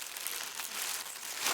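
Thin plastic bag pots crinkle and rustle as they are handled while bougainvillea cuttings are potted up; a steady, close crackling runs throughout, with no talk.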